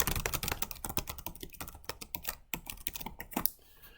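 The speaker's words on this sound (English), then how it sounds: "If I can type." Rapid, uneven keystrokes on a computer keyboard while entering text into a Tableau or Power BI dashboard tooltip, close and crisp, with a few brief pauses between bursts of clicks.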